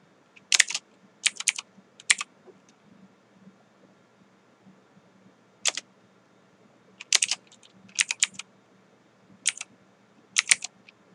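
Keys clatter on a computer keyboard in short bursts of rapid typing separated by pauses, close and crisp over a low background hum.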